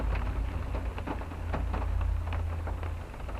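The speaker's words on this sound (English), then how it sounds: "the water was beating on the window." Heavy rain pouring and drumming against a car window, a dense steady wash with a low rumble underneath and scattered sharper drop hits throughout.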